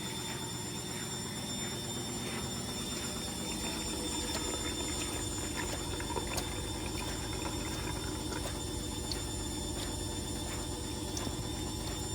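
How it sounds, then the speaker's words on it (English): An Indesit Moon washing machine on the spin stage near the end of a 40 wash, a steady droning hum with a fast regular whirring rattle, continuous and fairly even throughout. "That's more like it for spinning now. That's more of a spin noise there."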